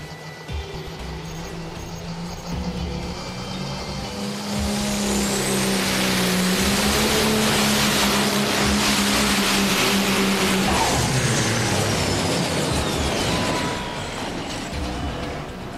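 A 1963 Peterbilt 351 semi truck from Holy Smokes Park, Minnesota spools up at a Grand National Super Semis race, its loud engine note rising and holding with a whistling turbo for several seconds before easing off.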